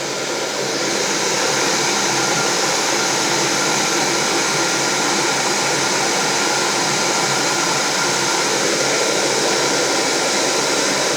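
An MSR Pocket Rocket and a Pocket Rocket 2 camping stove burn side by side with their valves fully open, producing a loud, steady, unbroken roar of gas flame that lasts throughout with no speech.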